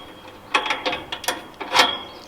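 A metal pin is pulled out of a mobile chicken coop's frame, giving a few quick clicking, ratcheting metallic clatters close by, spaced across about two seconds.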